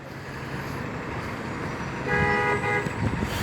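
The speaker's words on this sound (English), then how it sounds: "what bus honks like that?" A bus horn honks in a single sustained blast over steady road traffic noise, loud and close by.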